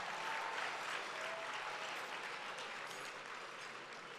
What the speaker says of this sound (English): Let's give Alvin and the Howard University Gospel Choir another round of applause